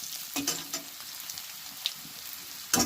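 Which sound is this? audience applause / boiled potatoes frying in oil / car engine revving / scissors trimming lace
boiled potatoes frying in oil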